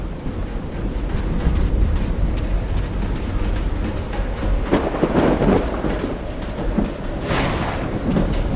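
A thunderstorm in the video game Call of the Sea: steady heavy rain roars throughout, with deep rolling rumbles of thunder swelling partway through, loud and continuous, no talking.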